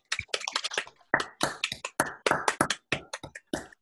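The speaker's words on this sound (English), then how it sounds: "I would ask the audience to unmute yourself so that we can clap for the speaker" An online audience claps for a lecturer on random simplicial complexes, sharp irregular hand claps and taps from scattered unmuted participants, close and dry with short gaps, no voices.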